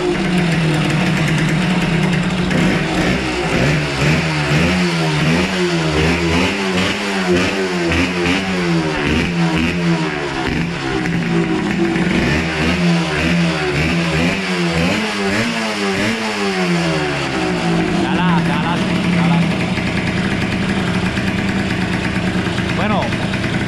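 A loud 1996 Yamaha DT 200 motorcycle engine with a modified exhaust idles roughly, then revs up and down repeatedly with a throaty, aggressive exhaust note, steady and close throughout.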